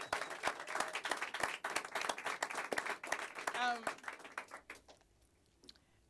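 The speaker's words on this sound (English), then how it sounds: "let's give actually another round of applause for the horn section on this." An audience claps for the horn section at a live music event: brisk, close applause with crisp individual claps, a brief voice partway through, fading out after about five seconds.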